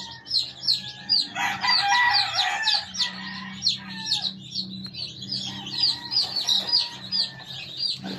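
Baby White Kelso chicks on their second day peep and chirp in a busy, continuous flock close by, with a low steady hum underneath.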